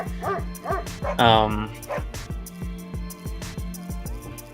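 Several restless dogs bark in quick repeated yips and let out a drawn-out high whimper, close by and loud, mixed with rhythmic tapping and a person's voice.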